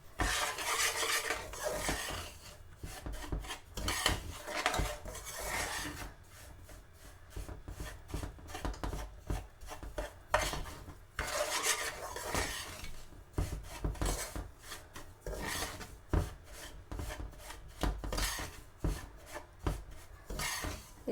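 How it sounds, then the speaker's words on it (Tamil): Semolina (rava) is dry-roasted in a pan while being stirred continuously, producing a long, steady run of close scraping, rubbing and light metallic utensil-on-pan sounds at moderate volume, without talking. "இப்போ நான் இந்த ரவ்வையை போட்டு இது இப்படியும் 10 நிமிஷம் கொஞ்சம் கலர் மாறாமல் வறுக்கணும்."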